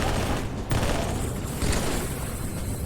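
Halo 3 turret on its pod firing nonstop on Xbox 360, a dense, continuous roaring stream of gunfire with no breaks, loud and close throughout.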